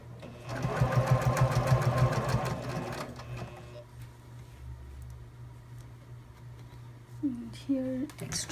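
A sewing machine stitches the seam of a small zipper pouch for sunglasses in a fast, close, rhythmic burst lasting a couple of seconds, then stops. A quiet room follows, with a brief voice near the end.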